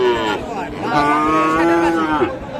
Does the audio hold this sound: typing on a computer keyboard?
no